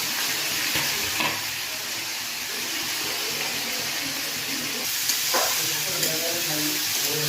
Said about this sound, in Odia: ଏମିତି ପଣସ କଠାଟା ଆମର ଭାଜି ହେଉଛି।